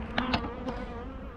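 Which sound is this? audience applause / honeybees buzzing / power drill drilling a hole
honeybees buzzing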